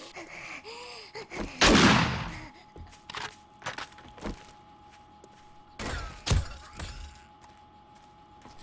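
A junk turret in 7 Days to Die fires several scattered sharp shots, with a loud crashing, shattering burst early on and another heavy impact later, set against a quiet hum.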